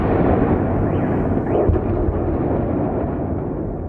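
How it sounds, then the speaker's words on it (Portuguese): Explosions from bombing in Kyiv before sunrise rumble as a dense, continuous low roar with a few heavier thuds, loud and dull, no voices over it. "As explosões começaram a ser ouvidas pouco antes do nascer do sol em Kiev."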